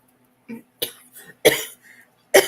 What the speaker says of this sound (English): It's making me cough because I choked on my own spit.